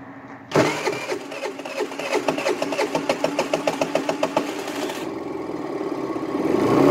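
A motorcycle engine cranks with a rapid chugging rhythm for a few seconds, then catches and settles into a steady close idle.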